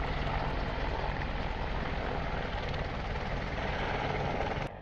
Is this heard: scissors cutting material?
no